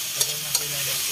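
Pork browning in a frying pan sizzles steadily and close, with two quick scrapes of a utensil early on.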